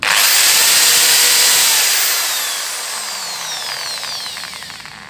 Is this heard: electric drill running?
yes